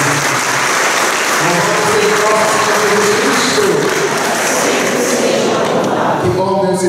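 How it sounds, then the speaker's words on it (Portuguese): A church congregation at a Sunday service claps loudly and steadily, a thick continuous wash of hands, with voices and a few low thuds mixed in before it thins at the end. "salva de palmas para você."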